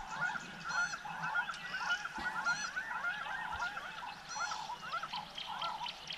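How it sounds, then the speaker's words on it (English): An augur buzzard calls from a fever tree in the Lerai forest on the Ngorongoro crater floor, giving repeated harsh, honking cries at moderate distance over faint background ambience. "The sound you hear is not the martial eagle calling, it's probably Aga buzzard calling,"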